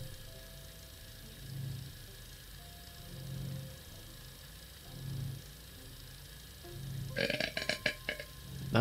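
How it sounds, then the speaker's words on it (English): A person lets out a long, rumbling burp near the end, loud and close and building to a crackly finish, after a stretch of faint low hum. "That was a big burp."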